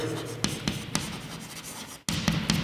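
Pen or marker writing during a maths lesson on pencil and graphite diameter measurements, with repeated scratchy strokes, a short pause, then more close, steady writing.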